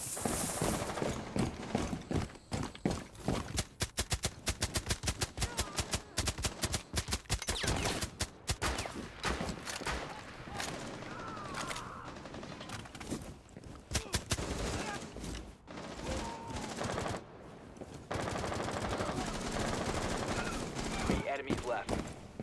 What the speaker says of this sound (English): the MP5 has burst fire mode